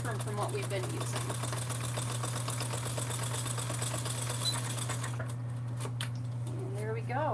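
Domestic sewing machine runs a steady mechanical whir while stitching a half-inch seam on a summer sling bag at a 3.0 stitch length, held for several seconds before tapering off near the end, with a voice speaking over it.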